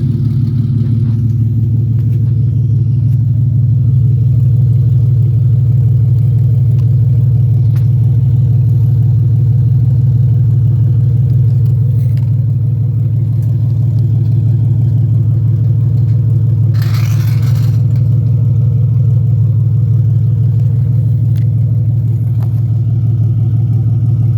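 An Acura Legend with a six-speed and an open OBX race header rumbles loudly and steadily up close, a deep continuous engine drone holding throughout with little change in pitch.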